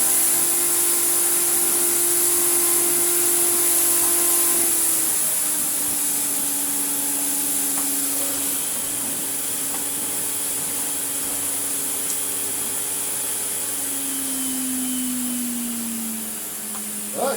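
A restored Electrolux Z2060 Electronic vacuum cleaner runs with a loud, continuous motor whine. Its pitch drops and rises as it works, heard close and alone with no talk.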